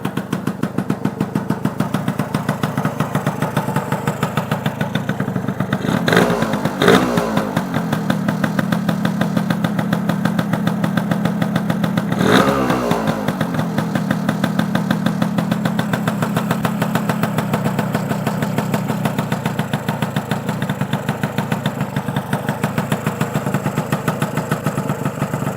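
A motorcycle engine idles after a tyre fitting in a garage, a loud, close, steady tick-over with a slightly uneven pulse and two brief throttle blips partway through.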